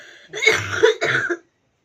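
A middle-aged woman gives a close, loud cough in two quick harsh bursts, then silence.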